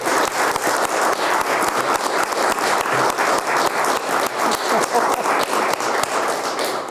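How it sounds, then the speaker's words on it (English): Senate chamber audience giving a steady round of applause for the Senate pages, dense clapping from many hands sustained throughout at an even, loud level with no talk over it. "I'd like you all to give a round of applause to our pages today."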